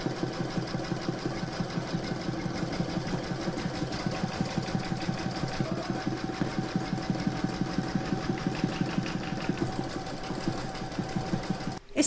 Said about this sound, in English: I'm now going to pop that into my machine and stitch the last round